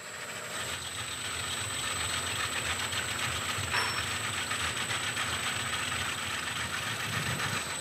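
Sheet metal edge being rolled into a bead by a concave wheel on a forming machine, a steady close mechanical whir and grind with faint ratcheting texture running evenly throughout, no voices.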